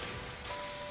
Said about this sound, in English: So right now David's spraying the 3rd coat